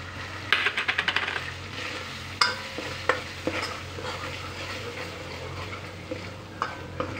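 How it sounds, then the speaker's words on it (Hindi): Garlic-ginger paste frying in a pan as spices are added: a soft sizzle and frying hiss, with a quick run of metal spoon taps and scrapes against the pan, close and without talk. "यहाँ हमारा लहसुन अदरक का पेस्ट अच्छे से भुना चुका है। अभी हम इसमें डालेंगे मसाले।"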